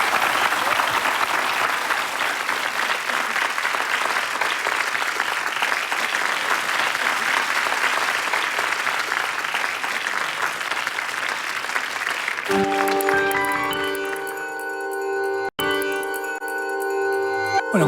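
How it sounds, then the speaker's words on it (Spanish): A classroom audience applauds the students after a lecture on Borges, with loud, dense clapping that runs steadily for about twelve seconds and then stops abruptly, giving way to chiming electronic tones. "un aplauso para los chicos"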